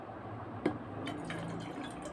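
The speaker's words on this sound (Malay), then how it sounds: "Tengok ni air masak. Okay. Bukan saya nak demo, saya tuang." Boiled water pours steadily into a container with a continuous liquid trickle and a few drip-like splashes, close but fairly soft.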